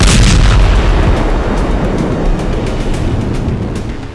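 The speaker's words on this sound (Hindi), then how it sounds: "और फिर कुछ सेकंड के बाद हुआ दूसरा धमाका।" Second blast from Israeli bombing of Kafr Kila village in southern Lebanon: a powerful, very loud low boom followed by a long rolling rumble that gradually decays over several seconds, with no voices.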